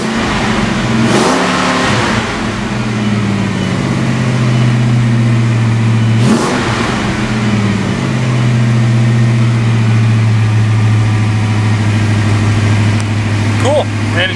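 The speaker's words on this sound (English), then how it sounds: "And you can tell it's running really good," A 1986 Ford Mustang GT on jack stands idles loudly and close, with sharp throttle blips near the start and again mid-way as the engine revs up and falls back to a steady rumble.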